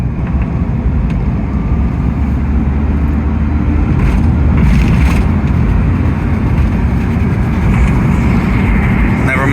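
Loud, steady road rumble inside a homebrew electric car driving in fifth gear at around 80 km/h, with a rattling noise from a loose part under the car running continuously through the drive.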